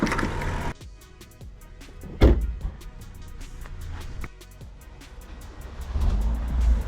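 A cheap, crusty Mazda Miata bought in 2025 drives along, its engine rising and falling through gear changes with a few sharp bumps and road rumble, heard from inside the car with no talk.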